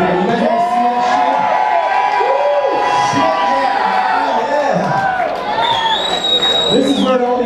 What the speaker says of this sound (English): if you could just give him a round of applause